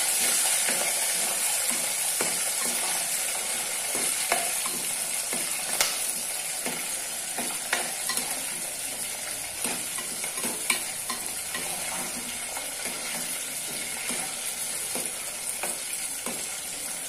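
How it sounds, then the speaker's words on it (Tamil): Onions and garlic sautéing in a pan for a white pumpkin tamarind curry, a steady close sizzle with repeated sharp spatula scrapes and taps across a long stretch. "வெங்காயம் நல்லா இப்போ செவந்துச்சு, நல்லா சுருளை வதங்கிட்டது வெங்காயமும் பூண்டும்"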